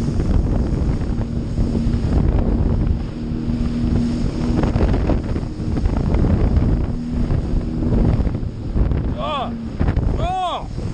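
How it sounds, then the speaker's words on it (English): A jet ski skims the sea off Costa Adeje, Tenerife, its engine droning under heavy wind buffeting on a GoPro, with spray and splashes. Quick whistling chirps sound near the end. "We're still on that jet ski."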